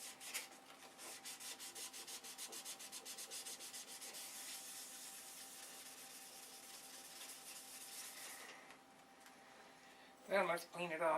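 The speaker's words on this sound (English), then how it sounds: "Hey, guess what? I'm still sanding." Wood sanded by hand before painting white, a close, continuous scratchy rubbing with quick regular back-and-forth strokes for about nine seconds, then a pause and a brief clatter of handling near the end.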